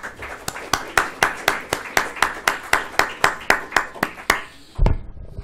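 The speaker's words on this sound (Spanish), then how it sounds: "le damos, por favor, un fuerte aplauso a nuestros comentaristas" An audience at a social management seminar claps crisply in an even, brisk rhythm, about three per second, stopping abruptly, followed by a dull thump.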